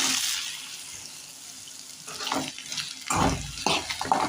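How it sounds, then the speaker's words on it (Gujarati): Chopped okra drops into a pan of hot oil and sizzles, with a hissing burst and crackling and stirring clatter following a quieter start. "હવે નાખવાનો છે ભીંડો કાપેલો."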